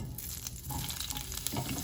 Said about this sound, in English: when you saute the cranberries, because they have air pockets in them, and they do kind of pop